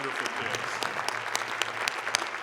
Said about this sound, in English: Let's please give them another round of applause.